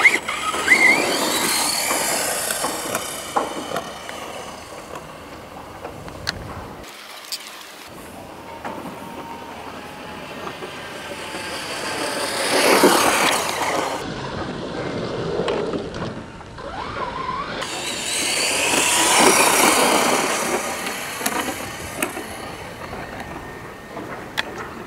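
VRX Racing Blitz RH2015 1/10 RC dragster making top speed runs on tarmac, its electric motor rising in loud whining surges that peak and fade three times as it passes, with quieter gaps between.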